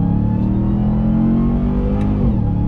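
A RAM TRX pickup truck's engine held at red line in sport mode, a loud, steady, sustained high-rev drone with a slight pitch shift near the end, close and continuous without speech.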